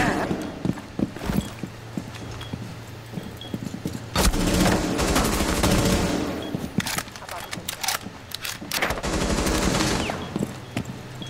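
Rapid bursts of automatic gunfire from Rainbow Six Siege, loud and close, arriving in several clusters across the clip with brief pauses between volleys; no voices are heard.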